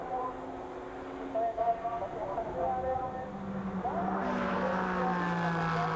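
A GT race car accelerates through qualifying at Suzuka, its engine note climbing steadily in pitch and holding a loud, continuous drone while a commentator talks over it.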